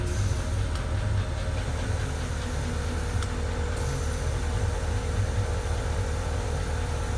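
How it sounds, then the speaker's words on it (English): The on-board air compressor of a Porsche Cayenne 957 drones steadily with a continuous hissing hum while inflating a tire, unbroken and moderately loud with no voices. "you can hear the compressor running in the background now."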